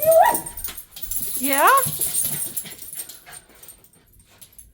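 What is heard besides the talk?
dogs whimpering and yipping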